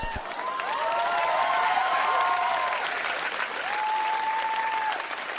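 Studio audience at a Saturday Night Live sketch breaks into sustained applause, a dense wash of clapping that holds steady for several seconds with a few faint tonal sounds over it.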